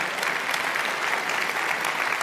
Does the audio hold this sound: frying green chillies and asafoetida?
no